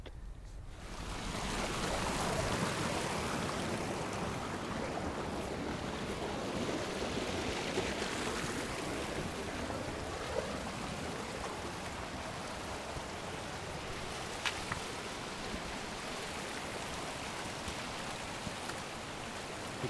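A mountain stream on an alpine ibex hunt rushes steadily, a dense even wash of flowing water heard close and alone for the whole stretch, with a few faint clicks near the end.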